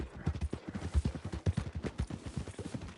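Horse hooves clip-clop in Red Dead Redemption 2, a close, rapid rhythmic patter of hoofbeats on ground continuing steadily throughout.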